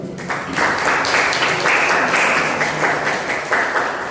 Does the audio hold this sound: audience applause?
yes